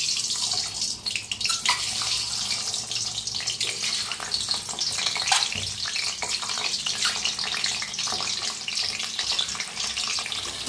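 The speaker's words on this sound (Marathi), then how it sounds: "अंडे कट करून घेतले ते तेलात सोडूया।" Eggs with slits cut into them frying in hot oil for a masala egg dish, a steady close hiss and crackle that runs without a break, with no talking.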